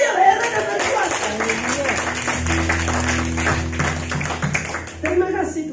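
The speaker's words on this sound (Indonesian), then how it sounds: "tepuk tangan untuk Allah yang heran dan berkuasa" Church congregation clapping during worship, brisk claps heard under a leader's voice and sustained musical tones from instruments, continuing for several seconds.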